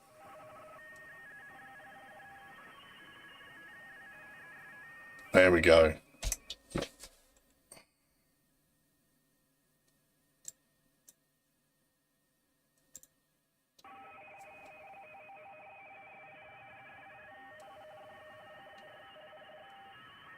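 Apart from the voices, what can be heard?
radio teletype data signal received on amateur radio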